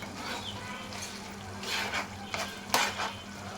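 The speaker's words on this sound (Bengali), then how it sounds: "চুলোর আঁচটা কমিয়ে বুড়িগুলোকে আমি ভালোভাবে ভেজে নিচ্ছি।" Beef or goat tripe fries over lowered heat in a pan, a moderate crackling sizzle broken by several scraping stirs and a sharp utensil clink near the end.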